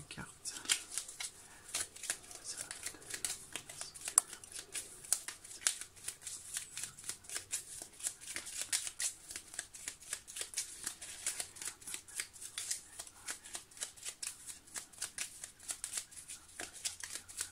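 Tarot cards are shuffled close up in a steady run of quick, soft riffling flicks and slaps, with a person speaking quietly between them.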